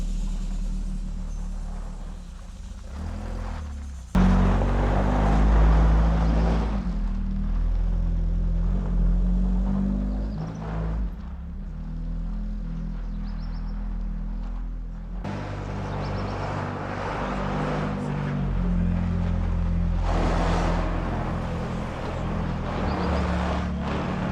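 The engine of an old abandoned vehicle, among a hidden collection of cars and motorcycles, runs after a hard start, with a low, rough idle that swells into louder revving twice over roughly twenty seconds and no talking.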